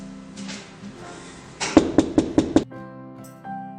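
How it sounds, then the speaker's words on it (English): Five sharp, evenly spaced knocks on a door land in quick succession after a soft, quiet lead-in, followed by a faint tonal ring. "Someone is knocking the door."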